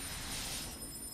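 A telephone in a video game (Enter The Matrix) rings, a quiet electronic trill sounding briefly and alone.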